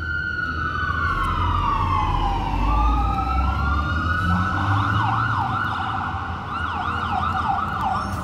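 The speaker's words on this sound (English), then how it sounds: "Of course, you hear sirens in the background." Emergency vehicle sirens wail in Roxbury, Massachusetts, sweeping up and down and then switching to a faster yelp, loud and continuous over steady street traffic rumble.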